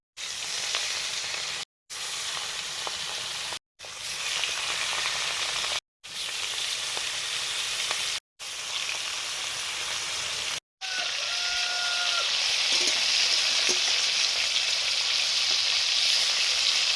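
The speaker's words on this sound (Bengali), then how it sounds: "মাছ ভাজবো, রুই মাছ, সর্ষে তেল দিলাম" Rohu fish pieces, rubbed with salt and turmeric, frying in mustard oil in a kadai, a loud steady sizzling hiss broken by several short gaps, then one long continuous stretch of spitting and crackling.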